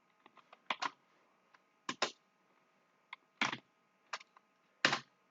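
Typing on a computer keyboard while writing CSS code, heard as close, crisp bursts of keystrokes separated by short pauses, with no talking.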